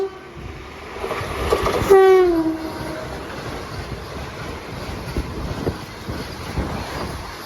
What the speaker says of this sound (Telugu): నూజువీడు రైల్వే స్టేషన్లో అయితే మన ట్రైన్ అయితే క్రాసింగ్ అయితే పెట్టారు ఆ ట్రైన్ అయితే ఒకసారి చూద్దాం వా అదే మన వందే భారత్ గైస్